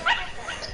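Dog barking in the video game GTA V: a single short, faint yip-like bark, followed by quieter game background.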